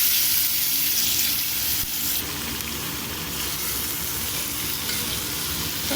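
Chopped onions fry in hot oil for mutton keema, a loud, steady, close sizzle with a broad hiss that continues throughout without speech.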